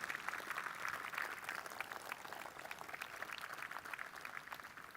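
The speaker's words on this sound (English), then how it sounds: "I just want to give them a huge round of applause" An audience at a Long Beach city inauguration ceremony claps steadily, a faint, dense wash of applause that stays even throughout with no voices on top.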